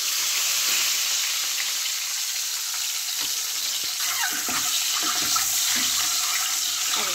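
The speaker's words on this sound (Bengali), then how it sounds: "এর মধ্যে আমি ডিমগুলোকে হালকা একদম ভেজে নেব" Eggs sizzle lightly in a pan for a Bengali egg pulao, a continuous close frying hiss broken by the scrapes and clicks of stirring, with no talk.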